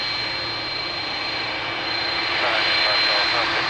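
Jet airliner rolling for takeoff on the runway at Lisbon Airport, a steady broadband engine roar that swells louder toward the end, with a faint radio voice in the background.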